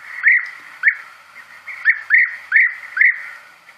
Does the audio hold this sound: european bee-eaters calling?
yes